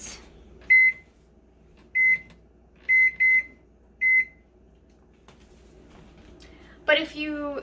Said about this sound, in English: we put a timer on for 6 minutes.